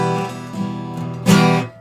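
An acoustic guitar up strum played tense and forced, heard alone as a few ringing strummed chords followed by a sharper, louder accented strum near the end.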